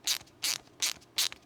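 A Wera 416RA ratcheting T-handle turning a bolt gives four evenly spaced bursts of quick, close clicking with no talking.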